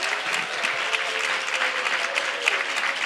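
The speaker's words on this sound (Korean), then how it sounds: "베델간 박수 소리가 훨씬 크다." Steady applause from a church congregation during an evening worship service, dense and even clapping that fills the room for the whole stretch with little else heard.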